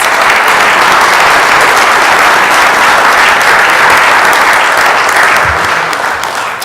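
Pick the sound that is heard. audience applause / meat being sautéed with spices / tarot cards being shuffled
audience applause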